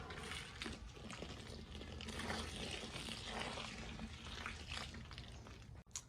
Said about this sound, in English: Go ahead and add a little bit of water.